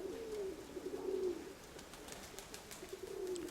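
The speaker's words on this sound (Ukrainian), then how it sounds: "Дивіться, я зараз покажу вам голубку." A pigeon coos softly at close range, two low, throaty rolling calls separated by a pause, with faint background noise and no talking.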